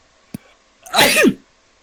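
A single sharp human sneeze, close and loud, preceded by a small click and followed by silence.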